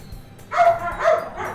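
A dog named Cody barks twice in close succession, loud and near, each bark a short sharp yelp with a brief tail.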